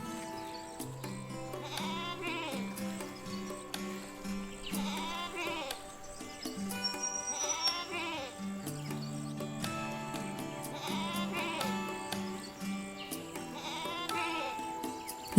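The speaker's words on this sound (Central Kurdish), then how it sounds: "ئەوانە بەران نین ئەوانە بزنن" Goats bleat in a repeated pattern, roughly every three seconds, each call rising and wavering over steady, continuous background music.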